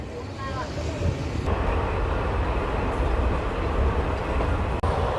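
Simhadri Express train running between Annavaram and Tuni, a steady loud rumble and clatter of the moving carriages filling the whole clip, with no voices heard.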